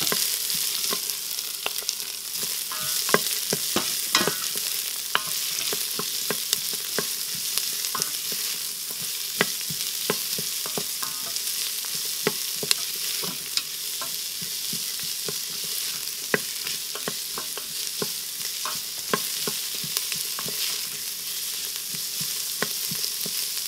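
Onion sautéing in a Cosori multi cooker, a steady bright sizzle with frequent quick clicks and scrapes of stirring throughout, close up and without talk.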